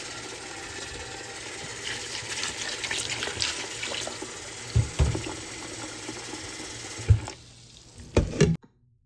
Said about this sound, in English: I'm washing the grapes off with the vinegar and water